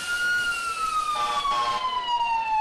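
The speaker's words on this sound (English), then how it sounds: "Here comes the ladder truck coming through right now." Fire ladder truck siren at a Parade of Lights in Cortez, Colorado, a single loud, close wail that slides steadily downward in pitch over a couple of seconds.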